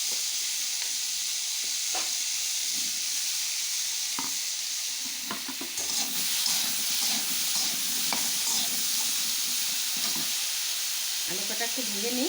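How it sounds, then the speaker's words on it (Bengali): Potatoes fry in oil in a pan with a constant broad sizzle and scattered stirring scrapes, moderately loud and steady, with a brief voice near the end. "এই তেলেই আমি আলু কটা দিয়ে দিচ্ছি, ভেজে নেব।"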